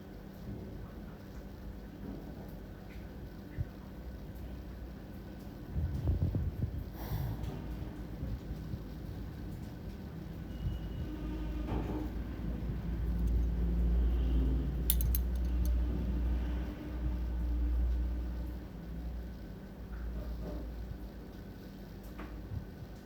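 Fish stirred and mixed in a cooking pan for a pumpkin and tengra fish dish, with scattered scraping and clinking of a utensil against metal over a low, steady background rumble that swells midway.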